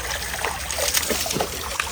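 Water trickling and splashing into a tub as a dog's bath is filled, a steady broadband pour with small splatters, close and fairly loud, with no voices.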